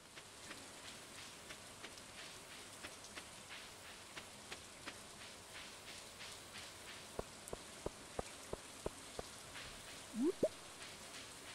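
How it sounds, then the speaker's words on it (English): Rain in the video game Stardew Valley falls as a steady soft hiss with regular spaced drip-like ticks, quiet and continuous, and a brief rising chirp near the end. "It's raining."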